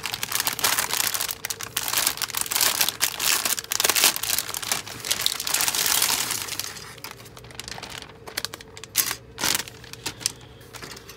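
A plastic bag holding small screws for a Revell 1:48 Beechcraft C-45F Expeditor model kit is torn open at close range, giving sharp crinkles and rustles that fade into a few light clicks and taps.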